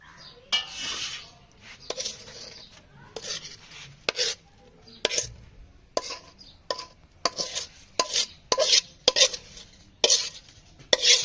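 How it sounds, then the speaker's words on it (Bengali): Thick chickpea-lentil barfi mixture scraped out of a pan and poured onto a plate, with a run of sharp, close scraping and clattering strokes at an irregular rhythm and no talking. "এবার এটা থালায় আমি ঢেলে দেবো"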